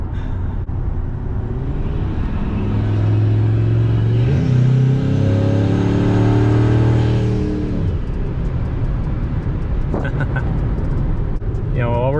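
A turbocharged Ford F150 sleeper pickup with an exhaust cutout drives along, its engine rumble swelling as it accelerates and then easing off, loud and close inside the cab, with someone talking over it.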